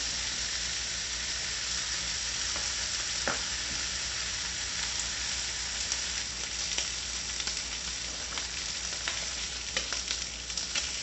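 Pork roll slices browning in a hot pan give a steady, even sizzle and crackle throughout, with a few faint clicks, close by and with no voices.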